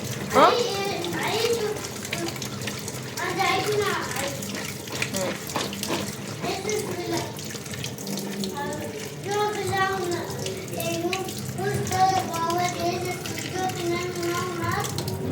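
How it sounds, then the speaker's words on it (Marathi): Water runs steadily from a drinking-water tap as cauliflower is rinsed under it, a continuous close splashing flow with children's voices chattering over it. "आता हे पिण्याच्या पाण्याच्या नळाखाली धरलंय"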